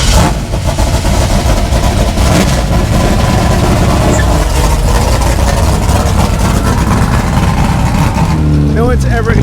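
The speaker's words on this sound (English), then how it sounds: "We're in the drift taxi. Yeah, LS400 angle kit. engine's pretty much stock, right?" Lexus LS400 drift car with an angle kit, a welded differential and a mostly stock engine, running loud and steady throughout, with people talking over it inside the cabin.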